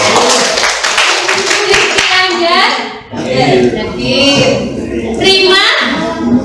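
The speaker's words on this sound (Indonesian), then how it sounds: "Tepuk tangan dulu dong." An Indonesian classroom audience claps on cue for a praised participant. The clapping is loud, close and continuous, with children's voices chattering over it throughout.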